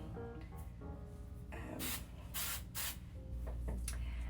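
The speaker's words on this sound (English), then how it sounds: "I'm just going to spray it a little bit so everything will stay in place" Tresemme hairspray hisses onto hair in several short, close bursts of spray with brief pauses between them, and no talking over it.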